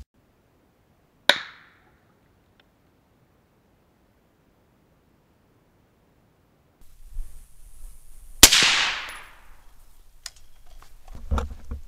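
A 6.8 SPC rifle fires outdoors: one sharp, loud crack, a stretch of quiet, then a rumbling noisy passage with a second strong crack and a few smaller ticks near the end.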